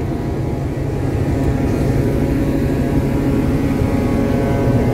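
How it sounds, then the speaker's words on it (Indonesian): A docked ferry at Merak port runs its engine, producing a loud, constant low rumble and hum that holds steady throughout with no voices over it. "Kalau di luar itu berisik ya teman-teman,"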